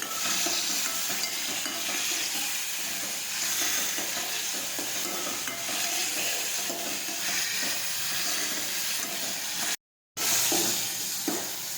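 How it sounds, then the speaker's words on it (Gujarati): Tomatoes sautéing and being stirred in a pan, a steady dense sizzle with scraping stir strokes running continuously and close, broken by a brief gap near the end. "જ્યાં સુધી ચડી ન જાય ત્યાં સુધી આ રીતે આપણે સાંતળતા રહીશું."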